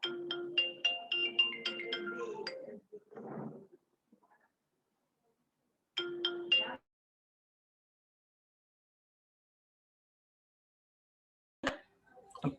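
A phone ringtone plays in melodic bursts, first a longer run of chiming notes, then a short repeat after a pause, and a brief final snatch near the end, heard alone in a quiet room.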